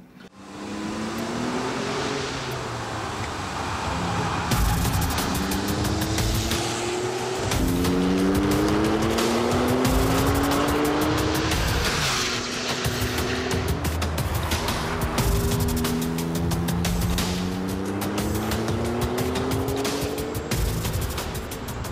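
Hypercar being driven hard, its engine loud and close, with repeated rising revs through gear changes over a continuous roar.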